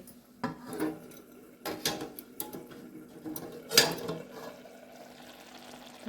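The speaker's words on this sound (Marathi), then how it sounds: "झाकण काढूया" A lid comes off a cooking pot of black-eyed bean curry with brinjal and potato: a few soft knocks, then one sharper metallic clink, quiet and close in an otherwise still kitchen.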